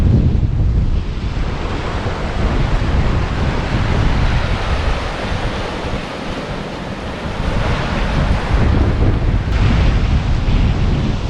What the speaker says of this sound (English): Oh, I got waves coming behind me.